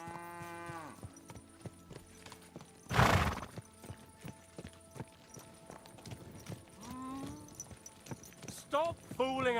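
Horse neighing and snorting in a medieval video game, Kingdom Come Deliverance II, with occasional hoof clops and a loud burst of rustling in the middle, fairly quiet, while someone speaks between the sounds.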